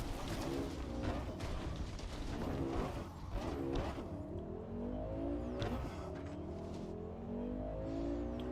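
A car in Cyberpunk 2077 drives along with a steady engine drone that rises and falls as it accelerates, moderately loud and continuous, with no talk.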